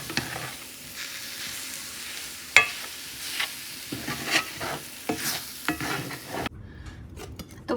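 Semolina and sugar are stirred into a hot carrot mixture in a pan, giving a continuous soft sizzle with repeated scraping strokes and a few sharp utensil knocks, close and clear without speech, ending abruptly.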